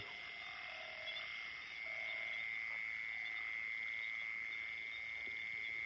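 A rice field at night alive with croaking frogs: a constant shrill chorus hums throughout at low volume, broken by occasional deeper croaks repeating in the background.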